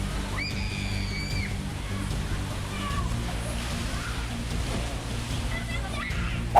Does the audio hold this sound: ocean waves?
yes